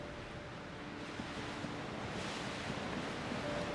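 Steady wash of sea waves and wind from the cold grey sea in Disco Elysium, a continuous close roar without distinct breaks and no voices.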